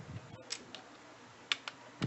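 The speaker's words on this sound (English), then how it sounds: "let me just type the title." A short, sparse run of light keystrokes on a computer keyboard as a title is entered, faint scattered taps over a quiet background with no talking.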